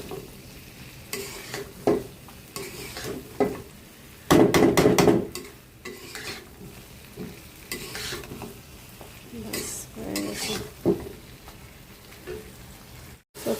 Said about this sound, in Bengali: আমি নাড়াচাড়া দিয়ে নামাই ফেলবো, কয়েক মিনিট শুধু নাড়াচাড়া দিব।